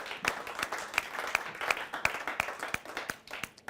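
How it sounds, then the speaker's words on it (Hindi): Audience applause at a Hindi comic poetry gathering (hasya kavi sammelan) welcoming a poet onstage: a steady crowd clapping with sharp individual claps standing out, moderately close, no talk over it. "आइए तालियों के साथ स्वागत करते हैं भाई वेद प्रकाश जी का।"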